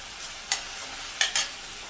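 Onion lightly sautéed in a pan, a faint background sizzle broken by three quick spatula scrapes or taps, close and brief.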